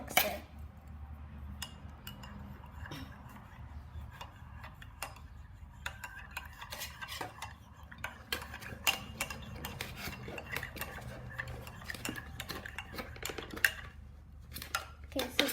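Quiet, close spoon clinking and scraping against a glass or cup while mixing cocoa powder into chocolate milk, with rapid irregular taps continuing throughout.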